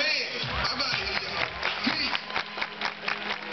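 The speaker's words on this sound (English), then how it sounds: "Everybody clap your hands" Audience applauding at a SeaWorld sea lion show, dense steady clapping from a crowd with voices mixed in throughout.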